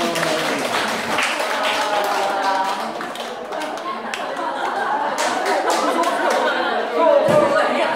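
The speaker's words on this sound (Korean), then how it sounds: "박수 주세요." A classroom audience gives a round of applause, a sustained spread of clapping with chatter and chuckles underneath, voices speaking over it near the end.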